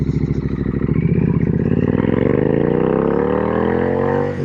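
A modded Triumph Street Twin 900 motorcycle ridden on gravel, its close, loud engine note rising steadily as it accelerates, with a rough rumbling pulse throughout and no talk.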